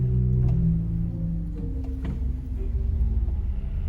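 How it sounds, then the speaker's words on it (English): Deep pedal flutes of a pipe organ, 32 through 8-foot stops with a digital 32-foot, sounding as a sustained low rumbling tone with slowly shifting bass notes, steady and fairly loud throughout. "There are, 32 through 8-foot native flutes."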